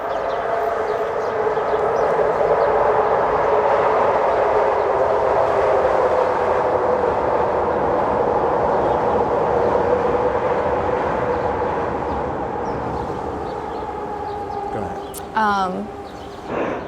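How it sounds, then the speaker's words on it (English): A train passes close by in Kensington with a loud, steady roar that holds for most of the stretch and eases off near the end. "Just wait for the train to pass."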